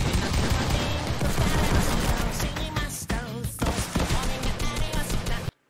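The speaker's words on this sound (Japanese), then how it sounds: "フォートナイトの銃声だけで最近流行りの曲を弾いてみたって企画なんですけど" Rapid bursts of Fortnite video game gunfire sequenced into the melody of a popular song, with fast rhythmic shots and pitched tones packed closely together before cutting off abruptly.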